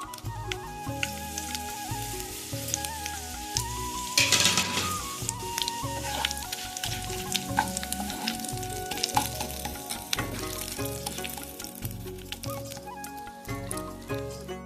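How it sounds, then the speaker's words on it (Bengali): Bay leaf, whole cumin and dried red chilli fry in hot oil, giving a steady, close sizzle with crackling pops and occasional stirring scrapes. No one speaks. "দেখো তার মধ্যে ফোড়ন দেবো আমি তেজপাতা,"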